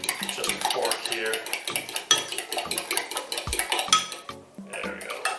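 A fork beating an egg mixture in a bowl for eggplant Parmesan, giving quick rhythmic clinking and scraping of metal against the dish, close and steady throughout with no talk.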